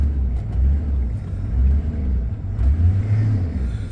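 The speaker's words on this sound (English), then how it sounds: "But the truck sounds really good." A Chevy tire truck fitted with a PTO crane and compressor runs after starting, giving a steady, deep engine rumble. The low throb stays even, with a slight swell near the end and no talking.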